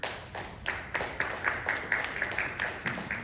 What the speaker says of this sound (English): The smattering of applause is very much appreciated